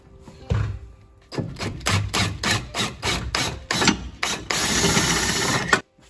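Rapid ratchet clicks tightening a wheel on a Mercedes 190D 2.5 come in a rhythmic series of about ten sharp bursts, close and loud, followed by a sustained whirring grind before a sudden stop.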